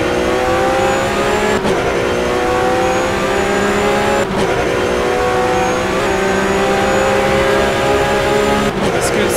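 Porsche Supercup race car engine heard from an onboard camera at Imola: a loud, sustained high-revving engine drone with steady harmonics and brief dips at gear changes, continuous throughout.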